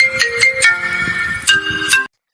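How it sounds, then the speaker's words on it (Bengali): A custom phone ringtone made from a person's name plays loud and close as a short melodic sequence of bright electronic tones in a repeating pattern, alone, cutting off abruptly after about two seconds. "ভাইয়া, কেউ আপনাকে ফোন করছে।"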